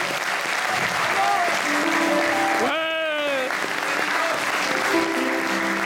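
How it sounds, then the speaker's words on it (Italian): Theatre audience applauding a concert orchestra in Limena, steady dense clapping throughout with a brief sung or whistled tone rising over it midway. "Un forte applauso per chi ha creduto con me in questo progetto."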